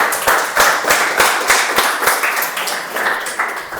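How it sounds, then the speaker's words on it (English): Audience applause at a Toastmasters meeting, a dense wash of many hands clapping with a steady rhythm, fairly loud and close, sustained for several seconds with no voices over it. "Let's give a big round of applause for Toastmaster Abhinesh."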